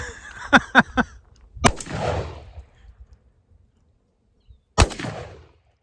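A 12-gauge shotgun with a short chamber is fired to blow out black powder fouling. Two loud, close blasts with echoing tails stand out among a few smaller sharp cracks, with quiet gaps between.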